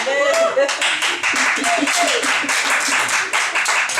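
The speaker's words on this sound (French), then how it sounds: "Je sais que vous allez acclamer plus que ça." Church congregation applauding during an evangelist's sermon: dense, steady clapping from many hands throughout, loud and close, with voices talking and cheering underneath.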